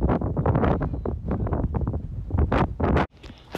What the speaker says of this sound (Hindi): बहुत तेज़ हवा चल रही थी